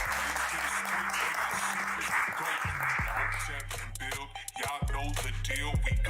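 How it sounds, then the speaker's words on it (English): Audience applause swells at a live call-in show, a dense, sustained wash of clapping that continues throughout while a low musical tone and some voices sit underneath. "Everybody, clap for King Hotep."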